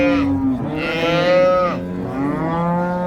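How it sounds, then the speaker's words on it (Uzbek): A small dairy cow moos loudly and close at a livestock market in Kitob, one long drawn-out call rising and falling over about three seconds with no voices over it. "Suti beradigan sigircha."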